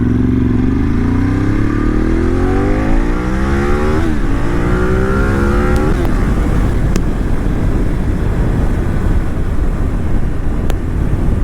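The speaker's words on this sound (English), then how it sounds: "There's that Ducati sound again." A 2010 Ducati 848 motorcycle engine riding downhill, a loud, close rising drone with harmonic sweeps that shift around the midpoint before settling into a rough, steady rumble with faint clicks.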